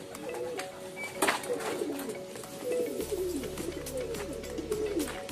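Several pigeons coo softly and repeatedly on the ground at dusk near a breeding loft, their low rolling calls overlapping steadily, with a faint background hum.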